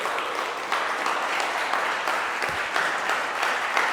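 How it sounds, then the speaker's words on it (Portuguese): Sustained applause from a lecture audience fills the room, a dense, even wash of many hands clapping at moderate loudness with no voices over it. "Eu gostaria que todos dessem de novo a palma para ele."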